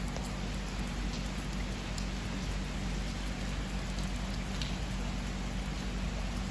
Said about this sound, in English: it's just a really nice light rain to bring a little bit of relief from the incessant heat